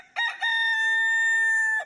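A backyard rooster gives one loud, close cock-a-doodle-doo, a short stuttering start that swells into a long, sustained, clear cry before cutting off.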